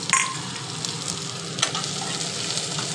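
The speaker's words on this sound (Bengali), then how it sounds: "এখন এটা সামান্য ফ্রাই হয়ে যাক" Chopped onion and green chilies sizzle steadily in hot oil in a pan for Bengali aloo dum, a continuous close frying hiss with a few faint stirring clinks and no talk.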